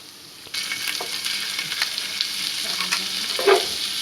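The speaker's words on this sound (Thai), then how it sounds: "เริ่มลงมือผัดครับ ตั้งกระทะใช้ไฟแรงนะครับ เริ่มแรกใส่กระเทียมลงไปครับ พอหอมๆแล้วก็ใส่ไก่ได้เลยครับ" Garlic and then chicken are stir-fried over high heat in a wok, making a continuous close sizzle that rises as the ingredients go in. Scraping stir strokes are heard, with no talk.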